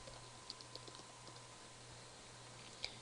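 Soft computer-keyboard typing while entering C++ code, a faint, scattered run of key clicks over a low steady hum, with a slightly louder keystroke near the end.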